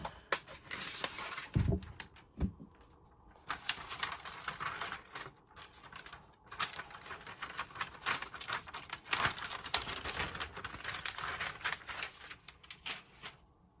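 Cardboard packaging of an Apple 15-inch MacBook Air pulled open, giving close scraping, sliding and clattering rustles with a couple of sharp knocks near the start, steady handling noise throughout.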